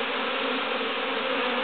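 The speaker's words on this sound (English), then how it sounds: "what we've got here is a prime swarm going into its intended home" A honeybee prime swarm buzzes as it enters its new hive, producing a dense, continuous drone from many bees close by, steady and loud throughout with no talk.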